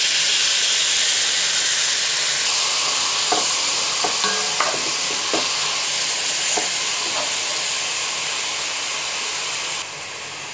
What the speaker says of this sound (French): Donc maintenant on va verser l'oignon.